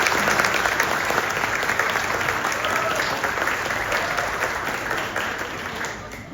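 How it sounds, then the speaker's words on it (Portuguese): An audience applauds at a book launch with steady, dense clapping that fills the room from start to finish and slowly fades a little toward the end. "Então peço a ambos também uma salva de palmas."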